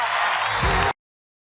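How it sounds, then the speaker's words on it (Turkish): Studio audience at O Ses Türkiye breaks into applause and cheering, a dense, loud wash of clapping and crowd noise that cuts off abruptly after about a second. "Kocaman alkışlarınızla Melike Şahin geliyor"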